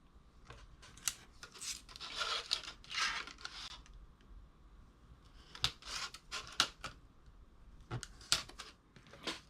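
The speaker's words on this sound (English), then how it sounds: "So I will just go on both sides of my score marks and cut out" A finger blade cuts angled notches into an acetate sheet for a craft project, giving sharp scratchy clicks and short crisp slicing strokes in irregular bursts, close and fairly quiet.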